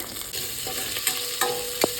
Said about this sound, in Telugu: ఉల్లిపాయ ఎర్రగా వేగే వరకు కలుపుకోవాలి